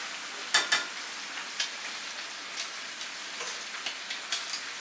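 Spinach frying and starting to wilt and brown in a pan, giving a steady low sizzle with a few sharper crackles and pops scattered through it.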